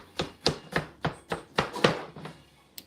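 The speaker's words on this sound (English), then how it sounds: "I'm chopping up some tomatoes" Knife chopping tomatoes on a cutting board, about ten crisp, evenly spaced chops in a quick steady rhythm, close and moderately loud, with no talking.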